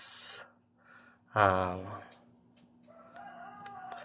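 Brahma chicks and other chickens at a small poultry farm, with a single clear crowing-like call in the middle and faint scattered clucks and chirps around it, moderately close, alongside quiet background noise.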